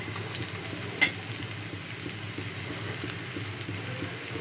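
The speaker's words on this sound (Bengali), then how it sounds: "সবজিটা ভাজা ভাজা হয়ে গেছে" Vegetables fry quietly in a pan for a roti sandwich, giving a soft, steady sizzle with one brief clink partway through and no voices.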